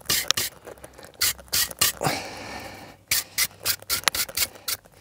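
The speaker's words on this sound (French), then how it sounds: "Bien brosser les portées surtout." Brake caliper slide surfaces on a Renault Clio 2 RS being scrubbed with a brush, a series of close, harsh rasping strokes in quick bursts with short pauses between them.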